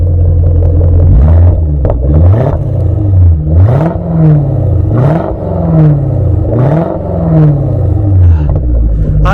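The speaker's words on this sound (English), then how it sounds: "give it a bit of gas" Supercharged 4-litre 1998 Jaguar XKR (X100) engine blipped repeatedly from idle, about eight quick rising-and-falling revs in a steady rhythm, loud and close with no talk.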